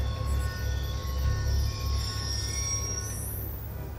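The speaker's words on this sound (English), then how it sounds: "Ain't getting anything else with that train in the way." A train rolls past in the Call of Duty Black Ops 2 video game, with a steady rumble and metallic wheel squeal that rises into a high whine near the end. No one speaks.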